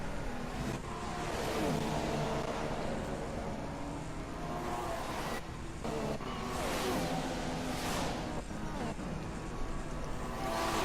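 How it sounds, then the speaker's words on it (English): F1 racing cars from the F1 2014 video game at the Canada round, a continuous high-pitched engine whine with revving and gear changes, loud and steady throughout. "And now Hamilton look to make a move onto the Ferrari."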